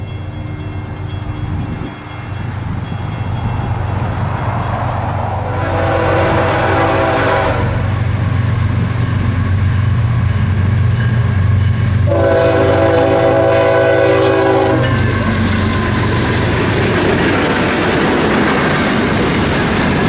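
An FEC freight train rolls past with loud sustained engine rumble and wheel noise, its horn sounding in two long blasts midway, close and continuous throughout.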